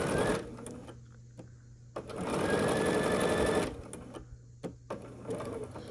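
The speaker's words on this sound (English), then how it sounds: "So we're going to sew these here." A sewing machine stitches together quilt block pieces in short, close, mechanical bursts. The longest run lasts under two seconds, with brief pauses and clicks between the runs of stitching.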